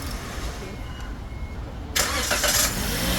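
A Perodua Bezza fitted with a Nanex sodium-ion battery starts up, a brief cranking catch followed by a light, quick engine start, close by with voices talking around it.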